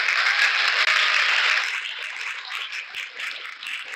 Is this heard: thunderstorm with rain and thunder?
no